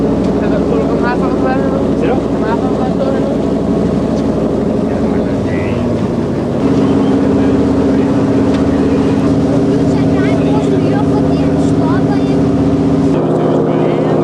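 A motorboat engine drones steadily with wind and water noise heading out to sea on the Kattegat, the engine note rising and holding louder partway through.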